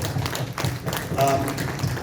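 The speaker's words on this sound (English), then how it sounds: "Give her an applause for all this" Audience applause for Trisha at a veterans' remembrance event, a scattered patter of clapping from a small crowd with a voice briefly heard amid it.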